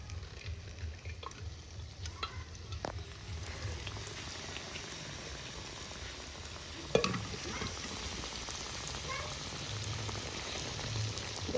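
Meat goes into a pan of oily water and fries, a steady sizzling hiss with scattered crackles and a sharper burst as it lands, close and continuous.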